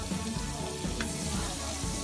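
About two to two and a half spoons of butter sizzling in a pan as the base for a white sauce pasta, a close, steady crackling fry with a small splutter partway through and no speech.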